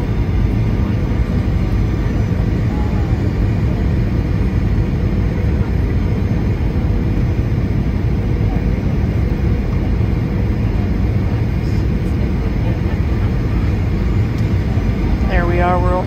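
Airliner on final approach to land at Dallas-Fort Worth, a loud steady cabin roar of engines and airflow that holds constant throughout.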